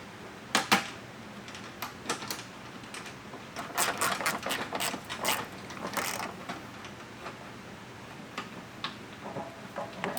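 A screw being driven to mount a Rokblokz mud flap on a 2011-2021 Jeep Grand Cherokee WK2, heard as quiet ratcheting clicks and short mechanical bursts, close and faint.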